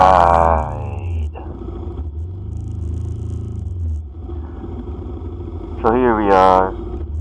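Vehicle engine rumble and road roar while riding along Taft Avenue under the elevated LRT line in midday traffic, loud and steady, with someone talking over it and a brief louder burst near the end.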